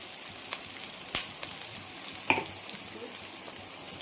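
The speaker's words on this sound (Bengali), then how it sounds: "একটু ভাজা হোক ততক্ষণ" Vegetables fry in a pan with a steady low sizzle, punctuated by a few sharp spatters and light clicks, close by and free of talk.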